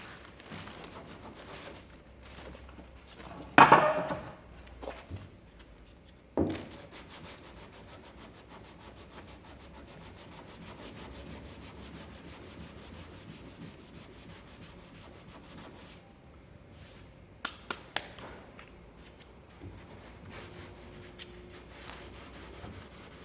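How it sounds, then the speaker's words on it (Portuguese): Automotive PU primer being hand-sanded with sandpaper on a small rubber block, producing a steady, soft back-and-forth rubbing rasp broken by a couple of sharp knocks early on. "vamos começar a lixar aqui"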